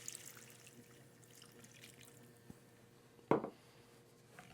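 Stock is poured into a pan of buttery onions and curry powder for a Victorian curry, giving a faint liquid trickle followed by a short, louder splash near the end in a quiet kitchen.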